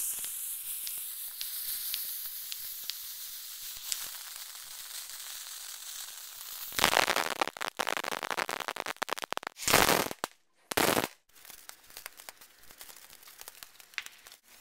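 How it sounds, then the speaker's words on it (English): Fireworks go off outdoors: a long hissing, crackling fizz builds, then several loud sputtering bursts and sizzling sprays come in uneven spurts with brief gaps between them. "right now we're blowing off fireworks."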